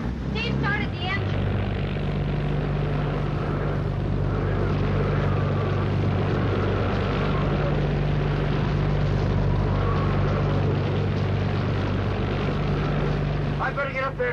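A boat engine drones low and steady during a hurricane, a continuous rumble that fills the whole stretch, with brief harsher noise at the start and end.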